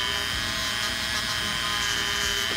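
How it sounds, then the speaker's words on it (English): A Dremel rotary tool with a 600 grit attachment polishes a cast silver signet ring band, making a continuous high-pitched whine with a steady grinding hiss, close and unbroken, with no voices. "Just going to start with my 600 grit on the Dremel."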